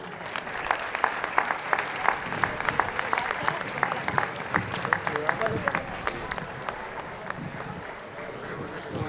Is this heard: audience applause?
yes